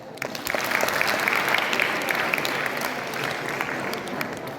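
A school crowd at a farewell game at JNV Mehsana, Gujarat, breaks into loud applause, a dense, sustained wash of clapping that swells quickly and holds, easing slightly toward the end.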